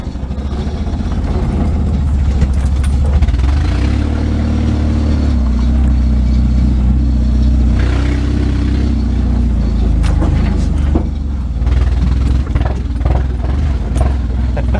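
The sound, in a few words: new mini truck engine running rough with a broken muffler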